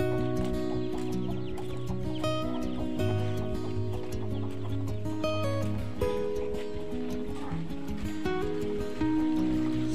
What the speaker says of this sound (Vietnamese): Đây ạ, tiếng gà rừng gáy đây các bác.